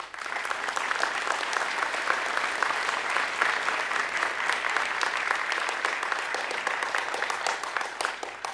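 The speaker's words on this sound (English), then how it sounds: "I ask my fellow graduates to join me in a round of applause for the family members, friends, faculty, staff, and mentors" A graduation audience at the Marine Institute's 2018 ceremony breaks into sustained applause, a dense, steady wash of many hands clapping that holds at an even level throughout.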